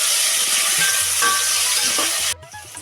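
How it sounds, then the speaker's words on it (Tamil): Onions sautéing with curry masala and cinnamon for a mushroom biryani, a loud close steady sizzle with faint stirring taps that cuts off abruptly near the end. "நல்லா செஞ்சு வெங்காயம் வந்து வதக்கணும்"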